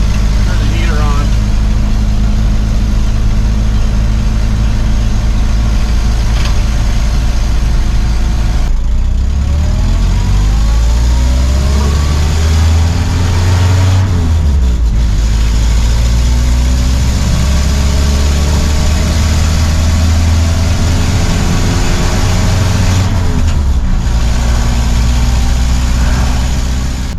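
A 1952 Willys Overland 4x4 truck engine drones loud and steady while driving, its low rumble rising and falling through gear changes, with occasional talk over it.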